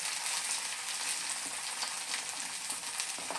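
Spices and potatoes sautéing for an egg curry, a steady close sizzle and frying crackle with soft stirring scrapes, no voices.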